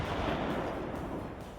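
A Christmas cracker cannon fires confetti and gumdrops over a stadium crowd at an elf sports event, one dense, sustained booming blast that fills the clip loudly with no voices.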